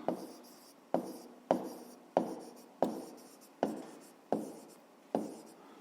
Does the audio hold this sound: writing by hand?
yes